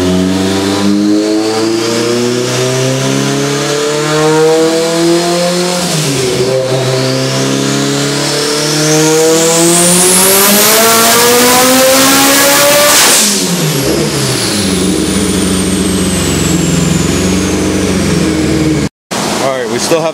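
A turbocharged Mitsubishi Evo 8 tested on a dyno, its engine loud and close as it revs up through a long climbing pull, turbo spooling and whistling, then dropping back off, with tire spin.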